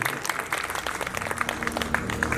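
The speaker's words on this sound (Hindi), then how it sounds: "बजाओ तो जोर से बजाओ ताली, इसमें क्यों कंजूसी करते?" Guests at a 50th wedding anniversary celebration clap loudly on request, a steady patter of many hands with sharp individual claps standing out, close and continuous, over a faint low hum.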